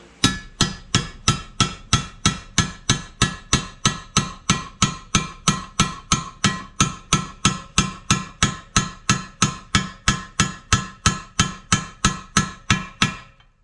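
Steady, evenly spaced hammer blows striking a drift punch during a JC5 gearbox reassembly, dozens of sharp ringing clanks in a regular rhythm, loud and close with no talking.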